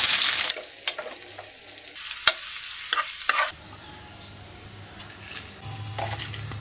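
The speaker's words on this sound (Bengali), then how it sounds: "এখন এই তেলেই এই বেগুনগুলো ভেজে নেব" Eggplant pieces frying in hot oil give a steady close sizzle, broken by several sharp clatters and scrapes of stirring before the sizzle settles into a quieter, even hiss.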